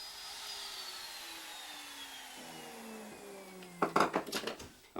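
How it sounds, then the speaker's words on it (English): Handheld router pushed through a rabbet cut along the grain with a jig: a steady whining motor drone with a slowly falling pitch, then harsher bursts of cutting noise near the end, close and alone. "use my left hand to push the jig and router through to the end of the cut"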